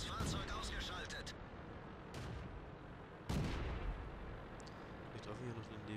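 World of Tanks artillery booms in sharp heavy blasts, one loud burst standing out, amid rumbling battle noise and a voice talking over it.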